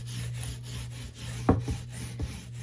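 A brush lays a thick, even coat of paint onto a wooden kitchen cabinet door, soft scratchy strokes against the wood with a few sharper swipes, quiet and close, with no one talking.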